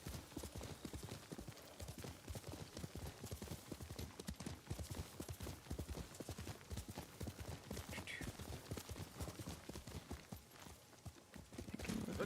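Steady, rapid clip-clop of horse hooves trotting in the video game Ghost of Tsushima, close and rhythmic, continuing without pause over a quiet background.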